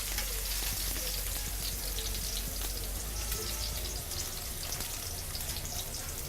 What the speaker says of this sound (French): nos oignons sont en train de suer. Faire revenir de l'ail.